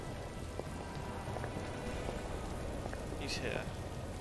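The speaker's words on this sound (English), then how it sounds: "Yeah, the rain effects are fine." Steady rain in a horror video game set in a dark coastal town, a dense even hiss that continues without a break, with a voice talking faintly underneath it.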